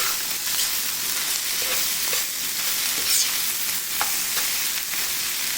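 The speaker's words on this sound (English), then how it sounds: "I'm just going to let this mix up a bit here." Cantonese special fried rice made with leftover refrigerated rice is stirred and fried in a hot pan, a continuous close sizzle broken by scraping and tossing sounds from the spatula.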